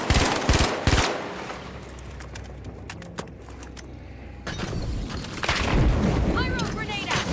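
Gunfire rattles in The Finals, rapid bursts of shots at the start and again later, mid-distance and fairly loud over a busy game mix with occasional talk.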